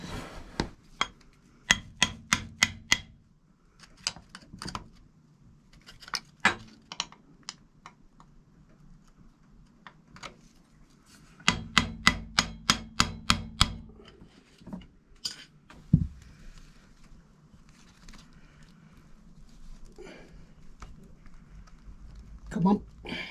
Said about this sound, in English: I'm going to have to tap it off from the back.